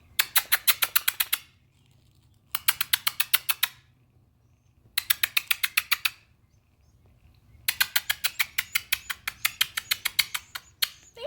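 Baby birds in a nest inside a flower pot give rapid bursts of shrill cheeping, four clusters of quick repeated chirps separated by short pauses, close and clear.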